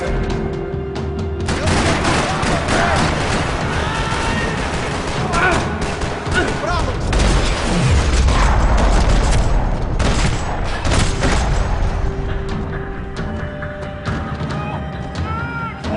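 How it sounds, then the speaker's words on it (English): Gunfire rattles across a parking lot in the Max Payne 3 video game, with dense volleys and shots firing steadily and loudly for the whole stretch, mixed with booms and game noise. "Another parking lot rattling with gunfire."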